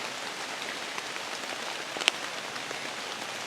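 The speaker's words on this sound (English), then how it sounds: "I'm gonna let this rain stop" Steady rain falling outdoors in woods during a squirrel hunt, an even hiss of drops throughout with one brief sharper drip, no voices.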